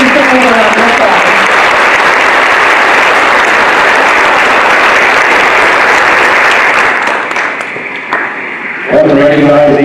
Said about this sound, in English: Please give these singers a round of applause.